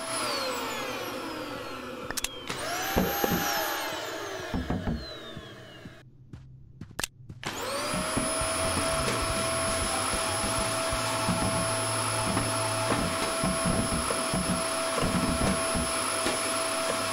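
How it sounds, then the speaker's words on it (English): Vacuum cleaner weapon in the video game Kill It With Fire: a loud, continuous whirring suction drone that rises, cuts out briefly with a few clicks, then restarts and holds a steady high whine, no talk. "One hell of a vacuum cleaner, man."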